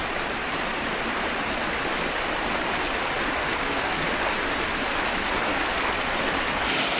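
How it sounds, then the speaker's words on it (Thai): Water flowing over a dam and falling below it, a dense, continuous roaring rush of spilling water, loud and close, unbroken throughout with no voices. "น้ำไหลปาดลงมาครับ มันก็ตกลงมานี่แหละ"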